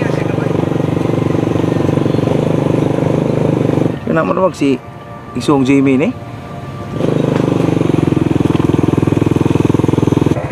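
Two motorcycle engines running together, a loud, steady mid-pitched idle drone that briefly drops out while someone speaks over it, then returns at full strength.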